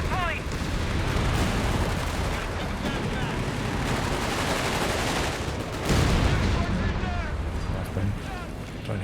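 Machine gun fire rattles through a Company of Heroes 3 2v2 battle, a dense, continuous roar of gunfire and blasts layered with explosions, with a player talking over it.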